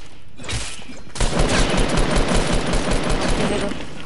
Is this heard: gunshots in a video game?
yes